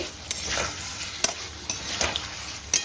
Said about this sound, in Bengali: এবার এর মধ্যে দিয়ে দেবো আলু। আলুটা দিয়ে দুই একবার নেড়ে